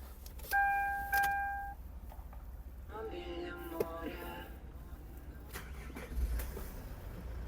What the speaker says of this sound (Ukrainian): З півтичка авто заводиться.